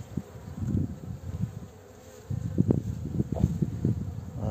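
Honey bees stirring in a weak hive after a frame of honey is added, a close, steady buzzing hum rising and falling in soft swells, with no voices.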